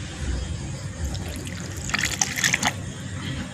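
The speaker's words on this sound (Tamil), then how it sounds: "தண்ணி கொஞ்சமா சேர்த்துக்கலாம்." Water trickles and splashes briefly into a coconut and jaggery mixture, a short pour with light bubbling over faint background hum, no voices.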